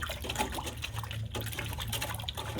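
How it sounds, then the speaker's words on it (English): Wood treatment granules are stirred into distilled water in a container, making a continuous close sloshing and swirling of liquid with faint gritty churning and no speech. "We're going to stir this into the liquid until that granulation"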